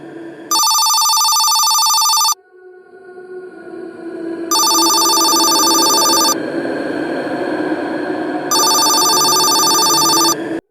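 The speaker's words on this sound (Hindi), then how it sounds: "तभी फोन बजा।" An electronic telephone ringing in three long bursts of a shrill bell-like tone, each burst about two seconds long and separated by pauses, loud and close, with a low background rumble between the rings.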